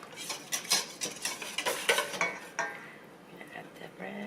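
Dough for homemade rolls being mixed by hand in a bowl, with close, busy scraping and stirring strokes that thin out toward the end.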